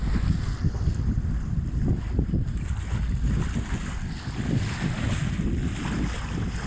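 A 1971 sailboat sails solo across the Solent on a September day, with steady wind buffeting the microphone and water rushing and slapping against the hull throughout. No voices are heard.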